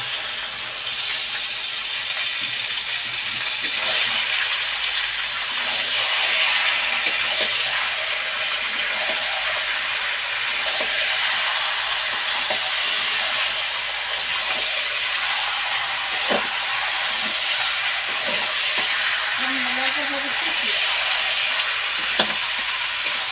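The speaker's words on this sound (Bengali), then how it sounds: "মশলা কষানো হয়ে গেছে, এবার মাংস দিয়ে দিচ্ছি।" Meat dropped into a pan of oil-fried spice paste, sizzling in a steady, loud hiss that holds close and continuous throughout, with a few faint stirring scrapes and no voices.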